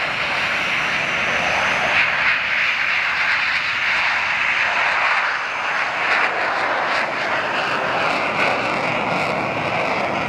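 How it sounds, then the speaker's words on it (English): Two Saab Gripen fighter jets take off together, a loud continuous roar of jet engines with a broad hiss that holds steady throughout. "These two Jaws Gripens taking off synchronized with each other."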